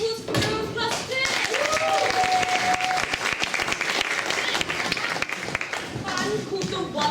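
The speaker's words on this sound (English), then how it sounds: "should we have another round of applause for Girls Plus 2?" Audience applause at a variety show, a dense sustained patter of clapping filling the room at close range, with voices talking over it throughout.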